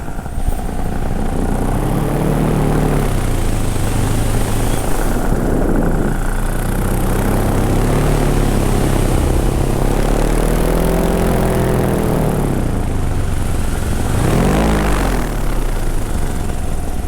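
A MacFly paramotor drones loudly and steadily for a long stretch, its engine pitch swelling and dipping as it passes overhead and banks, with no voices.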